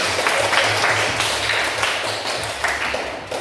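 A class of students claps for the winning group: a short, fairly loud round of scattered applause in a classroom, steady for a few seconds with some voices underneath.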